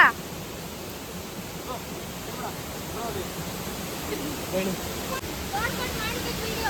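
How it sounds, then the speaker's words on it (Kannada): Ukkada Falls in the Bhadra forest pours down in a steady, hissing roar of falling water, constant and moderately distant, with a few faint voices now and then. "ನೀರು ಸೌಂಡ್ ಎಲ್ಲ ಚೆನ್ನಾಗಿ ಬರ್ತಿದೆ"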